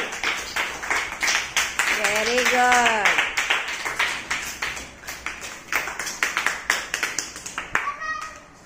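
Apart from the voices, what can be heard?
children clapping hands in classroom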